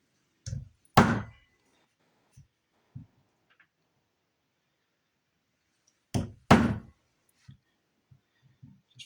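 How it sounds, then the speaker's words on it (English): Sparse, sharp knocks of a chisel cutting a mortise in wood for a hand sled, heard close and alone as irregular single and paired taps separated by silence. "now with that done, I'm going to go to a chisel"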